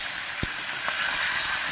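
Turmeric- and salt-rubbed meat frying in hot oil gives a steady, close hiss that fills the whole stretch, with a couple of brief clicks and no talking.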